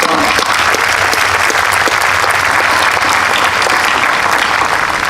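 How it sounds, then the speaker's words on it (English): Sustained, loud applause fills the room at a July Independence Day naturalization ceremony honoring Justice Thomas, an even, continuous roar of many hands clapping with faint crowd murmur beneath. "How about a round of applause to Justice Thomas?"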